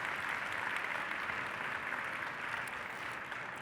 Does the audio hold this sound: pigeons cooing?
no